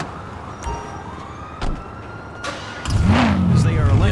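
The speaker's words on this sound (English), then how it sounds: "Police pulling up on us." A police siren wails in GTA 5 as cruisers pull up. Brief engine bursts come first, then the siren rises and sweeps loudly near the end, with talk over the game sound.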